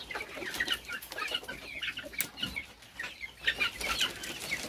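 Broiler chickens in a hot poultry shed cluck and murmur in a busy, overlapping chorus at close range, with soft irregular calls and no voices.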